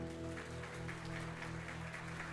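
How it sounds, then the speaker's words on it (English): Faint, distant applause with a steady low hum underneath, quiet and continuous throughout. "the applause they had set at about half volume"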